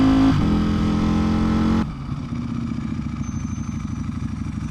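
A Ducati V4 Superleggera motorcycle with an Akrapovic exhaust runs close by, starting with a steady high idle that drops to a lower, lumpy rumble, loud and alone.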